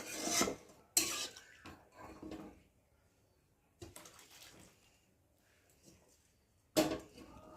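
A metal wok is wiped and set down on a home kitchen stove, giving a few sharp clanks and scrapes separated by quiet pauses, with soft rubbing and handling noises in between.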